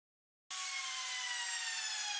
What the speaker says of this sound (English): I cut the groove for the bottom panel in all of the pieces.